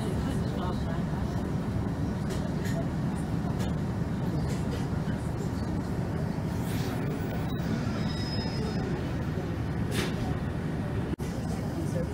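Inside a train pulling into Knaresborough station, a steady low rumble of wheels and carriage runs throughout with faint clicks, while voices murmur over it.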